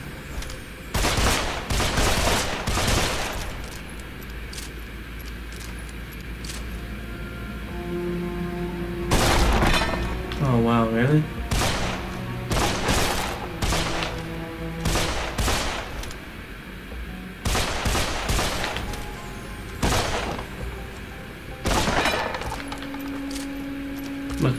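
Repeated gunfire from a first-person shooter, Deadfall Adventures: loud bursts of shots and rapid volleys spread across the clip over a steady game soundtrack, with occasional booms and clattering impacts.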